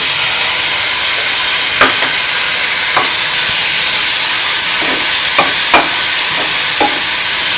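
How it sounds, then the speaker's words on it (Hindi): Tomatoes fry with spices in a hot pan for paneer bhurji, giving a loud, steady sizzle. Sharp scraping knocks of a spoon stirring break through several times at irregular intervals. "टमाटर को गलने तक भूनेंगे।"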